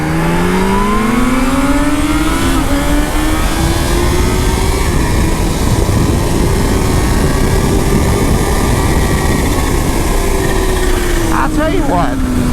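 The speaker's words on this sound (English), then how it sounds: "This is a fun motorcycle." A 2020 Kawasaki Z H2 supercharged motorcycle engine revs loud and close, its pitch climbing and holding at a sustained high drone with a brief dip, then a sharp blip near the end.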